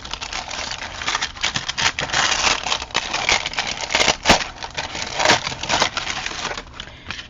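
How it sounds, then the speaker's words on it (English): Handmade faux paper peeled from wax paper, giving a close, loud, continuous crackling rustle with sharp crinkling bursts throughout. "Separate the paper from the wax paper."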